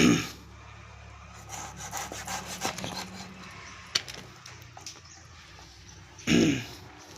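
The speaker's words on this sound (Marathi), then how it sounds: "बघा, हे डोकं कापून घेऊया." A knife cuts the head off a 3 kg black pomfret fish with close, rough scraping and crunching strokes, a sharp click midway and a louder scrape near the end.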